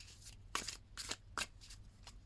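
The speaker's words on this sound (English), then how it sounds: "They're nice to shuffle this way." A new deck of thin-stock tarot cards is shuffled by hand in several quick, soft riffling bursts, quiet and close, with short pauses between each pass.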